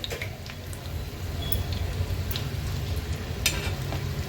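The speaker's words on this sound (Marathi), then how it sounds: "ह्याला छान पालत करून आपण फ्राय करून घेणार आहोत आता ह्याला आपण पलटवून घेणार आहोत" Aluvadi, rolled colocasia leaf slices, shallow-fry in a pan, with a steady close sizzle of oil, light stirring noises and a few sharp pops, and no voices.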